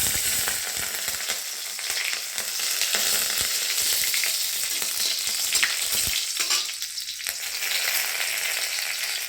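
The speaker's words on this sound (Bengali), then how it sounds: "তেল গরম হয়ে গেছে, দিয়ে দিব কাঁচা লঙ্কা আর রসুন।" Green chillies and garlic hitting hot mustard oil, a loud, steady close sizzle and crackle filling the whole stretch, with a brief stirring scrape near the end.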